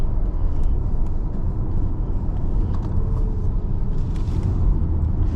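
MG Cyberster electric sports car driving fast on a wet track after rain, heard as a steady, loud road and wind rumble that holds evenly throughout with no voices.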